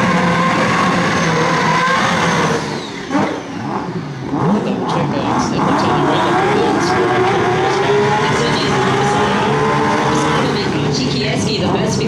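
Mazda 6 race cars roar past during a circuit race, engines revving loudly and continuously with shifting pitch as cars accelerate, while a commentator talks over the racing noise throughout.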